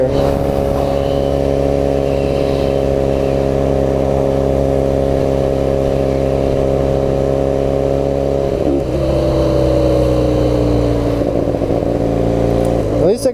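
Honda Rebel motorcycle converted into a dirt bike, its engine running loud and steady throughout with harmonic drone, shifting pitch near the end as the rider changes speed.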